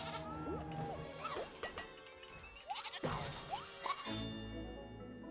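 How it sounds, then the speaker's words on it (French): Sheep-like creature in the video game Ni no Kuni: Cross Worlds bleating several times in a town scene, short wavering cries over soft background game sounds and a few thumps. "Il y a un enfant qui joue avec un animal. Cet animal ressemble à un mouton."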